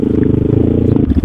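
Motorcycle engine running steadily up close while riding at Bromo, a continuous low rumbling drone with faint rattling and clatter throughout.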